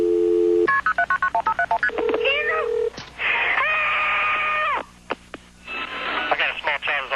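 Telephone call being connected through to emergency medical services, with a rapid run of touch-tone dialing beeps followed by rising connection tones and a long steady ringback tone, close and clear, with voices briefly in the background.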